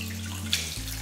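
Water poured from a container into mashed dal for Tamil-style paruppu rasam, a brief steady splash and trickle over a low background hum.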